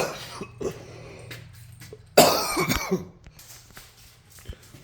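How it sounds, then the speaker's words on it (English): A single harsh cough bursts out close up, followed by some throaty rasping, with faint background noise before and after. "I did take a quick little pause to get a cough out."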